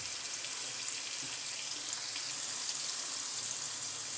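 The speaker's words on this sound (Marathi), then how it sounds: "आलू असे आपले मस्त फ्राय होऊ द्यायचे" Potatoes frying in a pan for sabudana khichdi give off a steady, even sizzle with a soft hiss that carries on without a break throughout.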